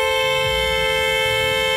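A horn blares as one steady, continuous tone, loud and sustained from start to finish, with a low rumble beneath it.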